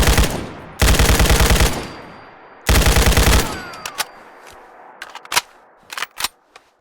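Modded weapons firing in the video game Fallout 4: two loud bursts of rapid automatic fire, each lasting about a second, followed by a scattering of sharp single shots and clicks.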